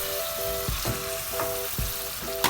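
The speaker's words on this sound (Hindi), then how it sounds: "ये काजू का पाउडर, ये चने का पाउडर, इन सबको भूनते हैं।" Cashew powder, gram powder and almond powder roast with spices and yogurt masala for white chicken korma, a close steady sizzle broken by a few dull scraping strokes of stirring, with a faint steady tone underneath.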